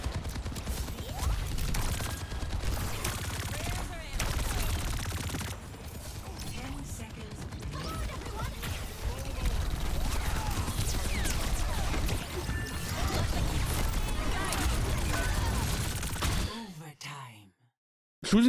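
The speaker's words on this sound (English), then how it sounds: "Shooting the tank like this feels nice" Rapid gunfire from an Overwatch match pours into an enemy tank in dense bursts mixed with ability effects and game clutter, while a player talks over it, the sound cutting off abruptly near the end.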